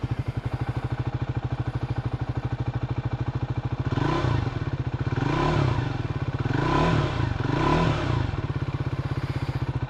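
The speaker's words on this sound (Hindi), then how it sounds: "स्टार्ट करते हैं एंड आपको कॉकपिट व्यू से इसका एग्जॉस्ट नोट सुना देता हूँ।" Tracker 400 motorcycle idling as heard from the rider's seat, with a steady, close, loud thumping exhaust that rises in three short revs before settling back to idle.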